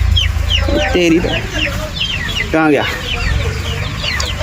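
Desi chickens on a farm cluck and squawk close by in quick, irregular bursts, one loud rising cackle standing out, while someone speaks briefly over the birds.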